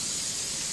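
Cooking oil sprayed onto a solid plastic dehydrator sheet, a short steady hiss of aerosol mist held close and fairly loud, with no talking.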